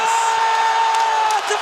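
A crowd cheers and whoops at a skateboarding contest, the SLS World Championship in Los Angeles, with loud sustained cheering and a sharp tonal whistle running through the noise.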